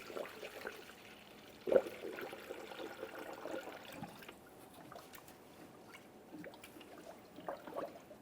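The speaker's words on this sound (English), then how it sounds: "Remove the stopper and add coolant." Coolant poured through a funnel into the radiator of a 2015-2019 Subaru Outback 2.5L H4, a faint steady trickle and gurgle of liquid with a small knock early on, close and quiet.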